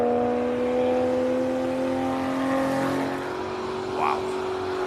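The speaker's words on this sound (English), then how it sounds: "Oh, listen to that, Porsche." A Porsche sports car engine drones steadily with a rising rev near the end at a classic car hillclimb, heard from a short distance over a constant mechanical hum and faint background voices.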